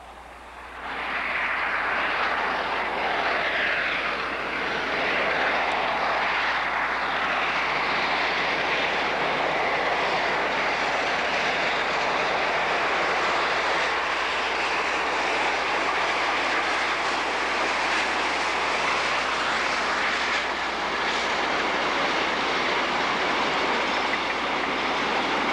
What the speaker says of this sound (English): a 15th class headed out of Thompson Junction